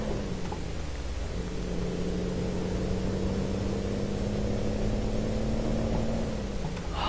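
Kenworth T800 truck engine in a driving video game, a steady low drone pulling hard under load, continuous and even throughout with a slight pitch rise near the end.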